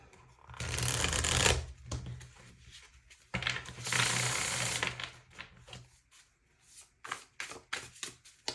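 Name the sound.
shuffling tarot cards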